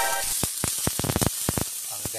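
Onion, garlic, tomato and ginger sautéing in a new pan, stirred with a utensil: a steady close sizzle cut by a quick run of crisp, rhythmic scraping strokes.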